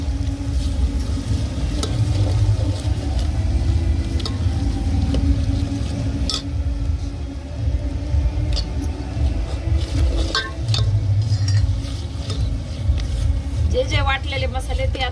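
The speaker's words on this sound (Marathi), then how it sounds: "आता आपण हे वाटलेले मसाले एक एक करून तेलामध्ये तळणार आहे." Ground spices fry in oil for a village-style chicken curry cooked over a wood-fired clay stove, giving a constant sizzle with stirring scrapes while someone talks over it.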